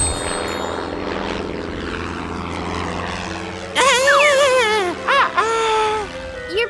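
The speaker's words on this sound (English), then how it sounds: "Your propeller was too strong." Cartoon airplane propeller drone, a steady buzzing engine hum, then an animated character's voice wails and whoops loudly over it in the latter half.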